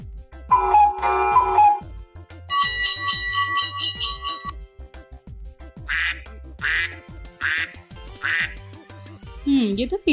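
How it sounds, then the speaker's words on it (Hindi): Several short nasal duck quacks come in bursts between bell-like electronic chimes and a steady low hum, ending with a warbling tone. "ये तो बतख की आवाज है।"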